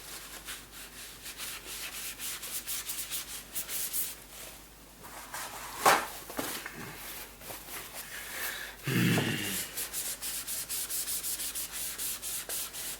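Steady scrubbing and rubbing at a stubborn thick sticker on a laptop surface, continuous scratchy friction strokes close up with a brief louder scrape partway through, no talking.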